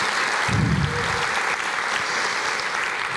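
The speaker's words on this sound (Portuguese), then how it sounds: "Aplauda mais" A church congregation applauding during a sermon, dense sustained clapping with a brief low thump near the start, continuing steadily to the end.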